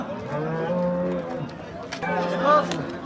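A cow at a busy livestock bazaar lets out long, loud moos, one drawn-out call followed by another, with people talking nearby underneath.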